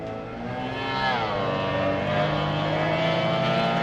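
Race cars surging away together after a yellow flag, with a loud sustained engine roar whose pitch climbs and bends as they accelerate, no voices over it.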